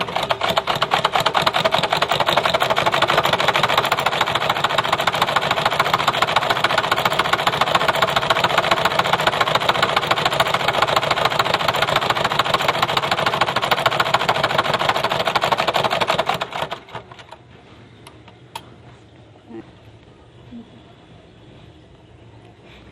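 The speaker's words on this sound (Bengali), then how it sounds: "এখন আমি এখানে একটা সেলাই করে নিব" Sewing machine stitching a half collar on a kameez, running in a fast, continuous rhythmic whir for about sixteen seconds before stopping abruptly, leaving faint handling noises.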